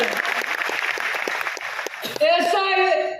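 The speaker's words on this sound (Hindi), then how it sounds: "दयाल सर के लिए जोरदार तालियां" Audience applause at a company event for Mi Lifestyle, with a burst of clapping for two seconds before a voice takes over.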